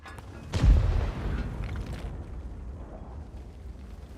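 A single heavy tank cannon boom in World of Tanks erupts near the start, loud and deep, then rumbles and fades into a low, steady background roar.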